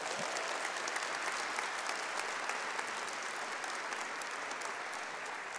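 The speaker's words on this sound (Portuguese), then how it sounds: "Aplauda isso em nome de Jesus." A church audience applauds during a sermon, sustained dense clapping from many hands that holds steady and fades a little near the end, without speech over it.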